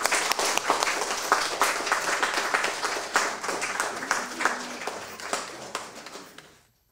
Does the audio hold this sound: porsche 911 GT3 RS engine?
no